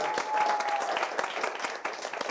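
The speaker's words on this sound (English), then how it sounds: "Round of applause for them." Steady applause fills a Milwaukee live arts show venue, an audience clapping densely and continuously at moderate loudness, with a faint held tone early on.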